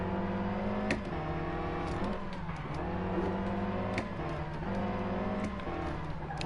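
Rally car engine revving while driving downhill in Sébastien Loeb Rally Evo at Monte Carlo, a loud buzzing rasp that climbs, drops on several gear shifts and lifts again, steady and close with no talking.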